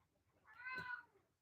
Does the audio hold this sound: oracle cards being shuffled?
no